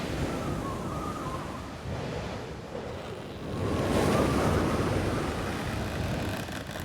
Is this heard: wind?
yes